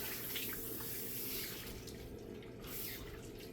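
Water runs steadily from a salon sink tap during a luxury shampoo, a soft continuous splashing and trickle heard close, with no talking over it.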